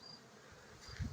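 Honeybees working blooming lavender flowers in a home garden give off a faint, steady buzzing hum, with a slightly louder drone near the end.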